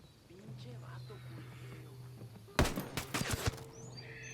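A quick burst of rifle fire in the Tom Clancy's Wildlands video game, several sharp cracks in rapid succession after a quiet stretch with faint ambient birdsong and a low hum.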